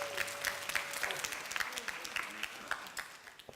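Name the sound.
audience applause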